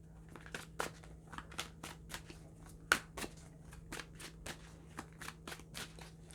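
Tarot cards being shuffled, a steady series of crisp, separate slaps and taps at close range over a low steady hum, with no talking.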